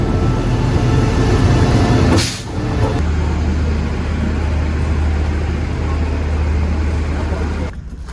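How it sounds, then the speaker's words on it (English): A night sleeper train pulls into a station in Thailand, its steady low rumble and hum filling the platform with a brief burst of brake hiss, while people talk nearby. "The night train is here."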